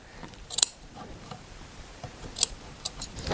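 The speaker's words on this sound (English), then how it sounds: "So what I do is I cut straight into the middle, and then cut up, and then we cut down." Scissors cutting upholstery fabric while reupholstering the inside back of a chair, a few close, crisp snips spaced over a few seconds against a quiet background.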